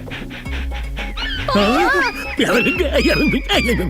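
In a movie scene, a voice imitates a dog with yelping, whimpering barks and howls that rise and fall over a background of music.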